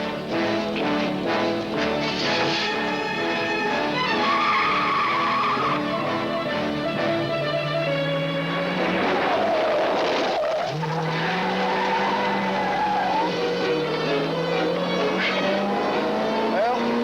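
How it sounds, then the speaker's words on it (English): A car drives fast with tires squealing and skidding through long, sustained slides while its engine roars. The sound is close and loud throughout, and voices can be heard over it. "Ain't that your car moving out there?"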